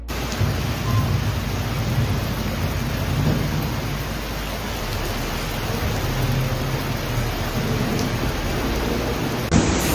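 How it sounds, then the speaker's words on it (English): Heavy rain pours steadily during a flood-bringing storm in Thessaloniki, Greece, with deep thunder rumbling loud and close throughout and a continuous hiss of rainfall. "Heavy rain and flood hit Thessaloniki, Greece again."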